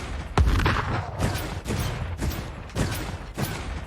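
A rocket launcher fires repeatedly in the Dreams PS video game, a sharp blast followed by a run of muffled booming bursts with short gaps between them, all fairly close.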